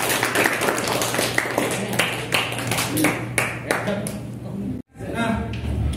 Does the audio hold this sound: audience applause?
yes